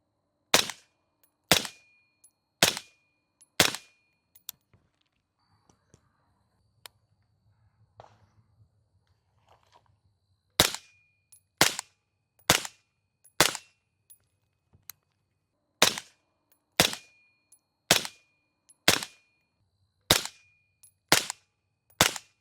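Suppressed rifle shots comparing a SilencerCo Saker 556 K with a full-size Saker, sharp loud cracks fired in rapid strings of four, then a quiet pause with faint handling noise, then two more quick volleys outdoors.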